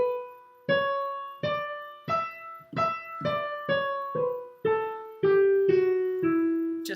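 A Dorian mode scale starting on E played note by note on a melodic instrument, eleven evenly spaced tones stepping downward, clear and close with no talk.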